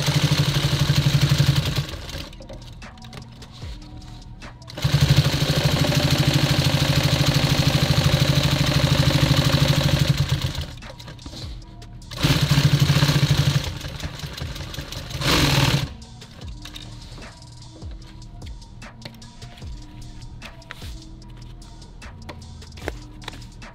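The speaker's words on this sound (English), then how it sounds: "I'm gonna go ahead and sew back over it one more time here" Sewing machine stitching nylon tactical gear, loud steady mechanical runs in several bursts separated by quieter pauses with faint clatter, no talk.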